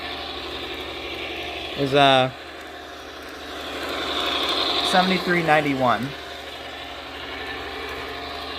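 The electric motor of an HO scale model locomotive gives two short whining bursts, rising and falling in pitch, over a steady background hum. A voice speaks briefly.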